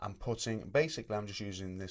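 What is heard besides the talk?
No everyday noises stand out.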